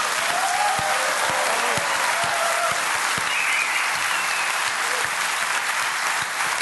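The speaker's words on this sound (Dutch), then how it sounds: "Ik buig en krijg een daverend applaus." Thunderous, continuous applause from a theatre audience after a stage performance, dense and loud from start to finish with a few faint voices beneath.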